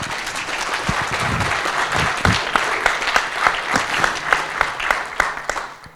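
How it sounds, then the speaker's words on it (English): Audience at a Modern Workplace tech conference in Paris applauds the event sponsors, full clapping at first that thins into scattered individual claps toward the end. "je crois qu'on peut applaudir tous les sponsors."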